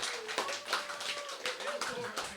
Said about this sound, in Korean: 이윤수 선생님께 다시 한번 큰 박수로 격려해 주시기 바랍니다.